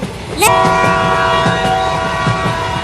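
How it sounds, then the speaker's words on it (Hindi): A train sounds its horn in a sustained, loud blast over the steady rumble and rhythmic clatter of the wagons rolling close by. No voices can be heard. "ये ट्रेन तो रुक ही नहीं रही"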